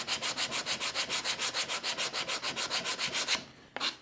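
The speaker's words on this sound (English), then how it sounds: "you can come back and hit it with a little bit of sandpaper" Rhythmic back-and-forth scratching of sandpaper on a cork, about six strokes per second, close and steady, then it stops with one final short rub.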